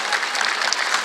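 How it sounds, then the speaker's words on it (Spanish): A church congregation bursts into loud, dense applause. Many hands clap together in a steady roar that fills the whole short moment without pause. "Denle un fuerte aplauso al Señor."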